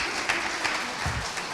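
Audience applause for a panelist at a venture plan competition panel, a short, steady patter of many hands clapping at moderate distance.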